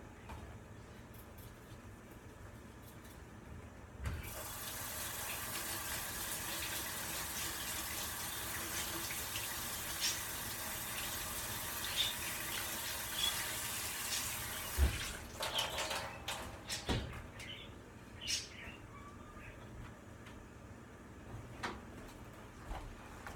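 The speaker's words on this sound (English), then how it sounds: "take this back to the sink for one more soapy scrub" Running tap water splashes steadily into a kitchen sink as an item gets a soapy scrub, followed by scattered clinks, rubbing and dripping once the flow stops; no one speaks.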